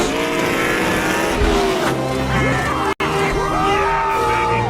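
Race cars from the animated film Cars speed around the track after a pit stop, engines whining and shifting pitch in a loud continuous roar, with tire squeals and crowd cheering mixed in.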